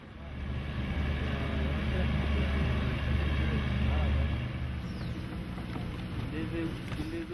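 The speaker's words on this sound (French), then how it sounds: "un bruit bizarre provenant du moteur décide Harbert de s'en rapprocher encore plus" Motorized pirogue engine on the Niger river, a steady droning motor close by with wind noise on the microphone, easing off slightly toward the end.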